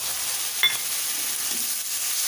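Spiced water with cumin, coriander and dried chili powder meets onion, ginger and garlic frying in a pan for egg curry, giving a soft, steady sizzling hiss with one brief clink of a utensil.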